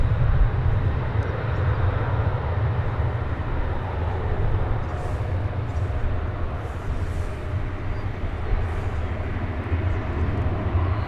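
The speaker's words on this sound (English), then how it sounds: "What we just saw there was American Flight 2395 coming in from Midland, Texas. An Airbus A319." American Airlines Airbus A319 arriving at DFW Airport, its engines a steady, broad low roar that stays constant and fairly close throughout, with no talk over it.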